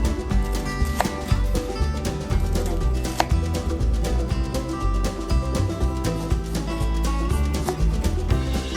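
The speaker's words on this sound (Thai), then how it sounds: "หั่นหัวหอมใหญ่ให้เป็นชิ้นเล็ก" Rapid knife taps on a cutting board as an onion is chopped, a steady chopping rhythm half-buried under loud background music.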